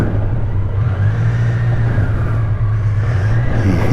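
A BMW K1200LT touring motorcycle creeps backward on its starter-driven reverse, giving a steady low mechanical whir and engine drone that holds evenly and close for the whole stretch.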